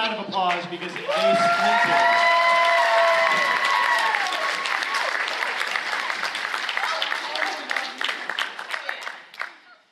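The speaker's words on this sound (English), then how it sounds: "Round of applause" An audience at a PAX Unplugged panel on tabletop role-playing games breaks into a loud, sustained round of applause with some whoops and cheers, holding steady before thinning out to scattered claps at the end.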